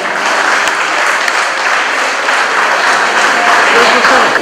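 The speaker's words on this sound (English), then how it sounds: "Please give him a round of applause" Sustained applause from a sizable crowd at a fundraiser fills the space, dense and even, with no break for the whole short stretch.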